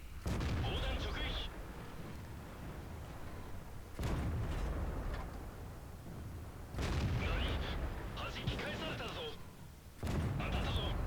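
Tank cannons fire in a strategy game battle, heavy booming shots landing in bursts at roughly four-second intervals over a continuous low rumble of combat noise.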